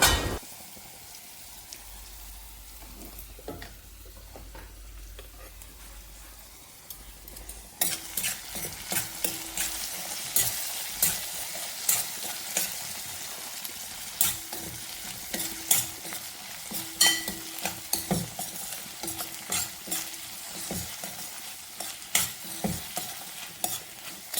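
Grated coconut frying in a pan for theeyal, stirred repeatedly: a soft, quiet start gives way to a steady sizzle with frequent scraping and clinking strokes of a spoon against the pan, close and fairly loud.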